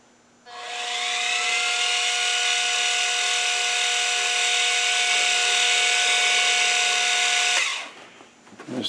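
A lathe spins up and whines with a steady high tone as a centre drill cuts into metal for several seconds, then winds down.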